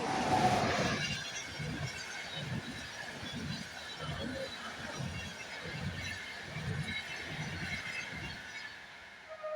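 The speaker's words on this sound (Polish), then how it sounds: "Pojechał pociąg Intercity przelotowy przez Wrocław Leśnice." An Intercity passenger train rolls past a railway level crossing near Wrocław Leśnica station, with a rhythmic clatter of wheels over rail joints and faint squealing, heard at moderate distance without talk.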